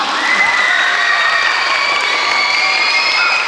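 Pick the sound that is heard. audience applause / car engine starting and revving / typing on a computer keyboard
audience applause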